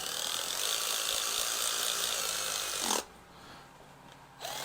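Ratcheting wrench snugging intake manifold bolts on a Ford 302 small-block V8, a steady run of close mechanical clicking that stops abruptly partway, then resumes briefly at the end.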